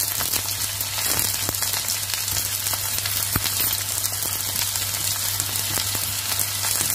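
Dill leaves dropped into hot oil with capsicum sizzle and crackle steadily in a pan, a dense continuous frying hiss with a low steady hum beneath and no talking.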